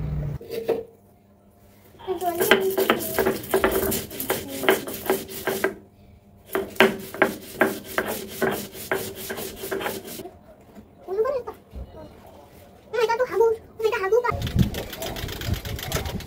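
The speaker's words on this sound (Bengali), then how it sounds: "সরিষার সাথে একটা কাঁচামরিচ এবং সামান্য একটু লবণ দিয়ে এটাকে একটু বেটে নেব।" Mustard seeds ground with a green chili and a pinch of salt into a paste, making rhythmic rasping, rubbing strokes that come in long bursts separated by brief pauses, close and fairly loud.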